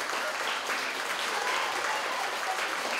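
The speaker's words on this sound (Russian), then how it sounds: "В итоге проект Игоря Пискунова собрал больше всего аплодисментов." An audience at a school science show applauds, a steady wash of clapping from a crowd heard at moderate volume, unbroken and even across the whole few seconds.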